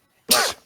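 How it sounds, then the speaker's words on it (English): A single sharp human sneeze during a tabletop D&D session bursts out suddenly after a brief silence, loud and close, then trails off within about a quarter second. "Damn, sneezing for days."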